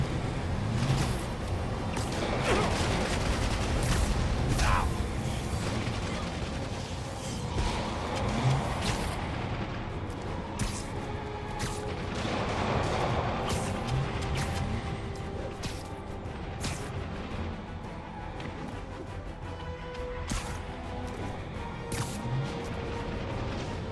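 Enemy gunfire and blasts in Marvel's Spider-Man Remastered come as repeated sharp bursts over a rumbling backdrop of engines and whooshes, loud and busy throughout.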